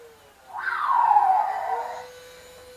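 A single electronic roar from a 2001 Hasbro Jurassic Park 3 animatronic Spinosaurus toy rises sharply, holds for over a second, then fades, with a faint mechanical whine beneath it.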